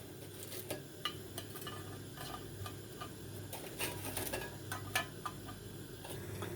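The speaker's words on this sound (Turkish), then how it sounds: "Gördüğünüz gibi şerbet kaynıyor." Low bubbling and faint crackles from sugar syrup boiling in a pot, with scattered small ticks and clicks over a steady quiet hum.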